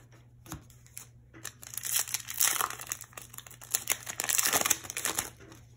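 Dragon Ball Z booster card packs are ripped open by hand: crinkling foil wrappers and tearing bursts come up close, starting sparse and growing busier and louder through the middle, with no one talking.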